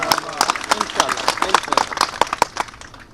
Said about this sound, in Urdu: وہ چاچا پیچھے بیٹھ کے جیسے تالیاں بجا رہا ہے